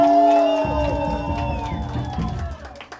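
At a punk solidarity festival show, the audience cheers and shouts for Mutti in a loud crowd roar that swells and then fades over a few seconds, with sustained tones ringing above it.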